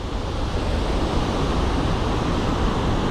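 Water rushes from the opened gates of the Manjeera dam, a loud, steady, broadband roar that holds unbroken throughout with no voices.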